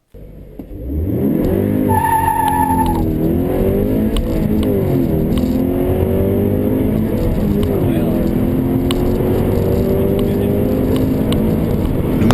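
A Toyota GT86 sports car with a 200-horsepower Subaru flat-4 engine starts up and drives, its engine note rising and falling through revs in a loud, steady drone close by, with a brief tone near the start.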